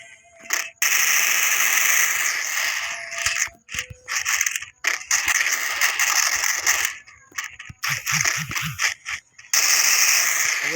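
Rapid gunfire from a mobile shooter game, with bursts of automatic shots and sharp rattling impacts during a firefight that lands headshots on players; loud, dense bursts broken by brief gaps, with no voices.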